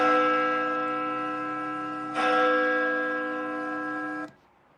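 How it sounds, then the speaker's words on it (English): Church bells ringing on a sunny Sunday, two sustained resonant bell strikes with rich overtones, the second struck midway as the first decays, then cut off into quiet outdoor ambience. "Was that 3 or 4 bells?"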